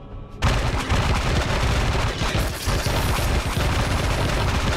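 A minigun firing in the space survival game Empyrion Galactic Survival: a sudden onset into a dense, unbroken roar of rapid fire that stays loud and steady throughout, with no voices.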